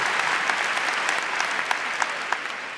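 Audience clapping their hands in a room, steady dense applause with sharper individual claps standing out throughout.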